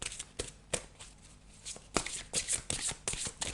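Tarot cards shuffled by hand in a run of crisp riffling bursts, sparse at first and then denser and louder toward the end, with no talk over them.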